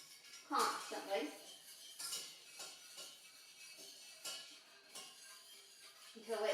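A spoon stirs lemon pie filling in a cooking pot over medium heat, giving faint scraping and clinking against the pot in short irregular bursts.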